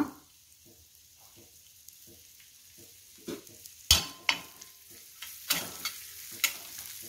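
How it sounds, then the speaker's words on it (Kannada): Finely chopped onions fry in oil in a pan, a low sizzle broken by intermittent scraping and stirring knocks of a spoon against the pan, growing sharper and louder toward the end. "ಸಣ್ಣದಾಗಿ ಹೆಚ್ಕೊಂಡ ಈರುಳ್ಳಿಯನ್ನು ಫ್ರೈ ಮಾಡ್ಕೊಳ್ಳುವ"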